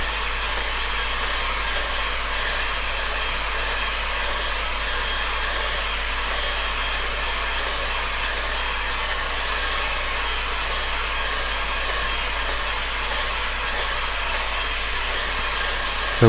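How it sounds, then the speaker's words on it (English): A hairdryer blows steadily over a watercolour painting, a constant close airy roar with a low hum that holds for the whole stretch, with no voices. "drying it with a hairdryer before that has a chance to go haywire."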